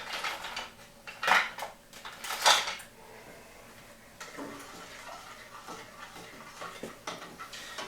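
A spoon stirs sushi rice in pots on a stovetop, with two sharp metallic clanks early on, then softer scraping and clinking against the pot sides, fairly close.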